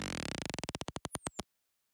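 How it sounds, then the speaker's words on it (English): A warping saw-wave synth effect pitches downward as a rapid stutter of pulses that slows and spreads out over about a second and a half, then cuts off abruptly into silence. "So then the next sound we have here is this little like warping pitch down thing"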